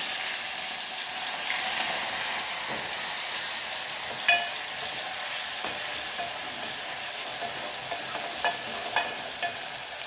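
Cumin, mustard seeds, curry leaves, garlic, ginger and ground tomato fry in hot oil, giving a steady, close sizzle with a few sharp crackles and pops scattered through.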